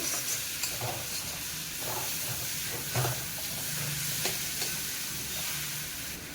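Fried potatoes stirred into sizzling masala while cooking a fish kosha, a steady hissing sizzle broken by rhythmic scraping strokes of a spatula, close and without talk.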